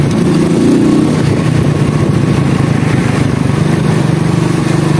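110cc cub-style motorcycle engine running close by while riding, a steady low buzzing drone with a slight rise near the start.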